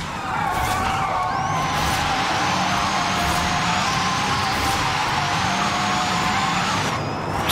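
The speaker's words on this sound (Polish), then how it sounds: "Włączamy sobie guzik i samochód driftuje tak jak Lucek w Forzie." An Xpeng P7 drifting in the Forza Horizon 5 video game, a loud sustained tire squeal over a steady engine roar, with pitch sliding up and down through the slide.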